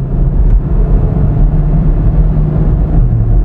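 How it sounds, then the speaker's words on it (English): A Hyundai i10 petrol engine is pushed hard toward redline with wheel spin. It makes a loud, steady, close low roar that holds without a break. "lot of wheel spin, redlining this petrol motor"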